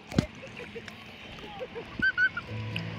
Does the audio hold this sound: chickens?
yes